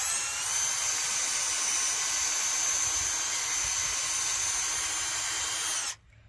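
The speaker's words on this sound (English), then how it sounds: "you want to drill into the tree a few feet off the ground" A power drill whines steadily at high pitch for several seconds, close and continuous, drilling into a maple tree trunk for tapping, then cuts off abruptly near the end.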